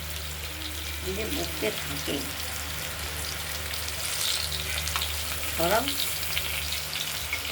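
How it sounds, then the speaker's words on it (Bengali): Ash gourd slices stuffed with a poppy seed, melon seed and cashew paste fry in hot oil, a loud constant sizzle with brief stirring, while a voice talks intermittently over it. "পোস্ত মগজ কাজুর ফুট দিয়ে ভাজা"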